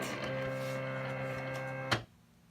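Silhouette Cameo cutting machine loading a cut mat, a steady mechanical hum with faint ticking that ends in a sharp clack, then near silence.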